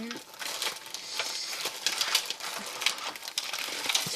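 Plastic laminating pouch sheets are handled close up, crinkling and rustling steadily while someone talks over the sound.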